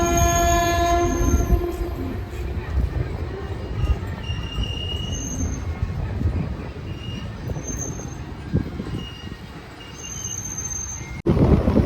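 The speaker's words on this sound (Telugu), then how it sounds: "Train present cruising speed." A passenger train runs at cruising speed between Secunderabad and Nagarsol, its loud steady rumble and wheel noise continuous throughout, with a sustained horn blast near the start and several more shorter tones sounding over the roar.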